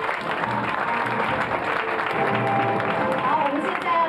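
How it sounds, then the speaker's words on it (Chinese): Audience applause greets guests at a formal launch ceremony, steady sustained clapping from a crowd in a hall, moderately loud, with voices talking over it. "来掌声欢迎各位贵宾"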